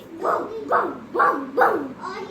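A voice imitates a dog barking, giving five rhythmic 'bow-wow' barks in quick succession, close and fairly loud.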